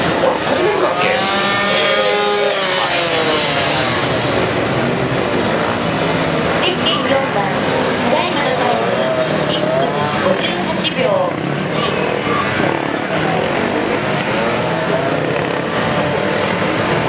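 A Kawasaki ZRX1200R motorcycle runs a gymkhana course at a 2018 Dunlop Moto Gymkhana event. Its loud engine revs up and down constantly through tight turns, while an announcer talks over it.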